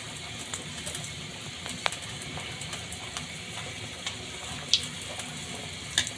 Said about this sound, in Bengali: দেখো বন্ধুরা ফুলকো ফুলকো লুচি ভেজে নিচ্ছি।